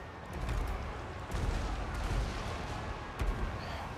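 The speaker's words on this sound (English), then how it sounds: "the artillery is really doing a number over here" Distant artillery fire booms across a Total War Warhammer 2 battlefield, a steady rumbling barrage of muffled thuds with a few sharper blasts standing out, no voices over it.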